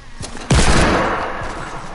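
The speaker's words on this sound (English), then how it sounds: "I'm using all my ammo with the hand cannon." A single sharp, loud video game hand cannon blast with a booming low tail that slowly decays, preceded by a faint softer shot.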